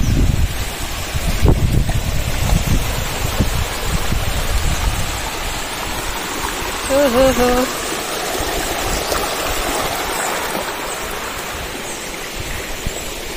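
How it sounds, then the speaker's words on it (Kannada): A small stream and waterfall at Yana caves pours with a steady, broad rush that holds throughout, with a brief faint tone in the middle and some wind noise on the mic. "ಚಿಕ್ಕ ಫಾಲ್ಸ್."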